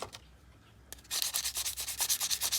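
Rhythmic scratchy rubbing of sandpaper on a yellow plastic pocketknife handle from an Old Timer knife, close and crisp, starting after a brief quieter moment and settling into quick even back-and-forth strokes.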